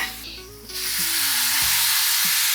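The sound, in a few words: food sautéing in a pan until golden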